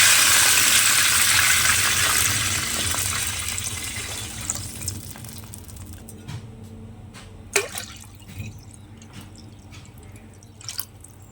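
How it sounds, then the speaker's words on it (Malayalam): Water is poured into a pot for Kerala-style chicken biryani rice, a steady splashing rush that fades away after a few seconds, followed by scattered drips and small clinks. "2 കപ്പ് വെള്ളം ഒഴിച്ച് കൊടുക്കണം."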